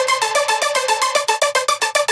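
A bright synth lick of rapid, evenly spaced stabbed notes without fades, about a dozen in a row, each cut off abruptly with clicky edges, playing alone.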